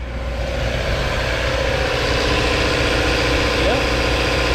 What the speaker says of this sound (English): We've got it built in back here where it's nice and quiet, and I've got it running right now